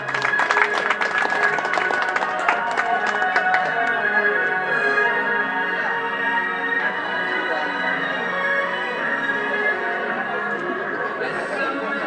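Audience applause at a quinceañera celebration, a dense steady patter of many hands lasting throughout, strongest at the start, with sustained music tones running underneath.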